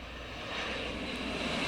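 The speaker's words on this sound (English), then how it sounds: "Timmy hears Russian planes overhead!" Propeller airplanes fly overhead, a continuous broad engine drone that grows slightly louder across the short stretch, with no voices.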